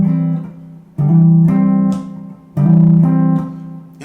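A guitar strikes a first-inversion chord and hammers onto it in an R&B rhythm, two loud clear strums each followed by a ringing, slightly shifting hammered tone.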